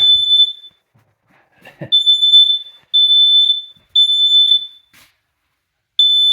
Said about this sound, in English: You also test your smoke alarm.